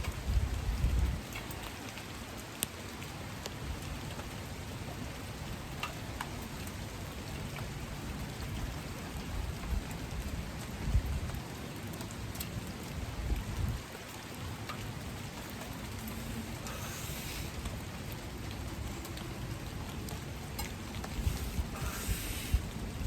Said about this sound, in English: it is still kind of sprinkling, and there's definitely still droplets like coming off the trees